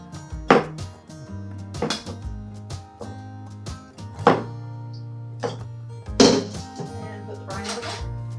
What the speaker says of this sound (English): we just need to add the eggs in here